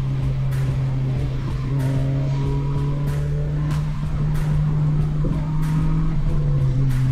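A car driven fast downhill on a winding mountain road toward Villeta gives a loud, steady engine drone with a sustained low hum and constant road and tire roar, heard close and alone for the whole stretch.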